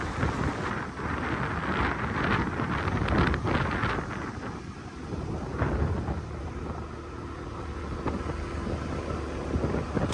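Strong gusty wind blows near an office in Rishikonda, Visakhapatnam, as a sudden storm rolls in. It roars and buffets loudly against the microphone, swelling and easing in waves for about ten seconds, and no one speaks.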